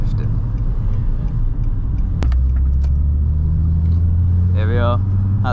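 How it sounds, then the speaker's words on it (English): A Nissan 350Z engine downshifts, its steady low drone climbing to a higher pitch partway through after a sharp click, with a brief voice-like chirp near the end. "Downshifting."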